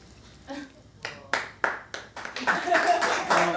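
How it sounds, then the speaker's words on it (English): Scattered audience clapping at a cooking challenge, starting as a few separate claps and building into fuller clapping from several people, heard alongside talk. "No, don't clap for that."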